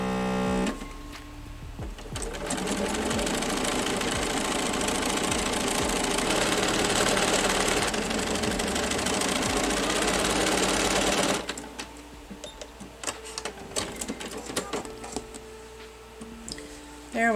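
Sewing machine stitching down strips of a woven quilt block, running steadily and loudly for about eleven seconds, then stopping, with a few faint handling clicks and rustles afterward.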